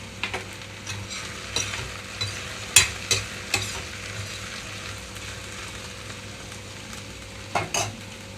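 Okra frying in a pan with turmeric and onion pieces, a steady close sizzle broken by scattered sharp scrapes and clinks of a spoon stirring, no voices.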